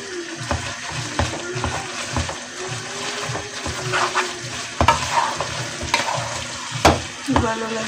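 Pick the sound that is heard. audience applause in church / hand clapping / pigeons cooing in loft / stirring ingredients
stirring ingredients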